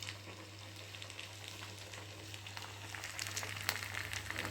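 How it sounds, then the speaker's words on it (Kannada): Chicken kebab pieces fry in hot oil, giving a soft, continuous sizzle with fine crackling pops that builds slightly toward the end, heard faintly and without any talk. "ಇವಾಗ ನಾನು ಕಬಾಬನ್ನು ಬಿಡ್ತೀನಿ."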